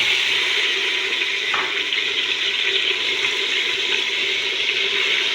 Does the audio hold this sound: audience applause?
no